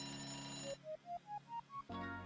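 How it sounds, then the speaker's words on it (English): A morning alarm clock beeps six times in a short run. Each beep steps up in pitch, and the beeps sit between stretches of soft background music. "My alarm clock rings."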